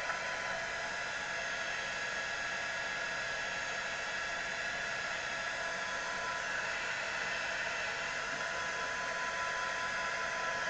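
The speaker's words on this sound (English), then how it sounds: "Right, so I'm gonna dry it here." A hair dryer blows over a watercolor painting of a tree frog done with Inktense pencils, a constant steady whooshing hiss at moderate level throughout, with no talking.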